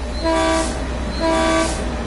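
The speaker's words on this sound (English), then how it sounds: "Our first train in the other direction." A passing train in Train Sim World 2020 sounds two long horn blasts, each swelling and fading, over a steady low rumble of the moving train with no talking.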